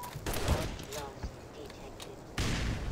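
Grenade blast in Black Mesa, a burst of explosive noise with a rumbling tail, then a second loud blast near the end, with gunfire-like crackle between.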